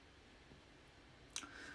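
A single sharp click rings out near the end, with a brief faint follow-up, against a quiet room hum.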